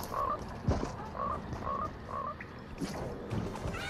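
Frogs croak in a video game, a steady chorus of repeated short croaks over a dense ambient bed with no talk.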